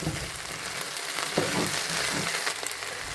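Potatoes with turmeric and chilli powder are stirred in a hot pan, giving a quiet steady sizzle broken by a few soft scraping strokes.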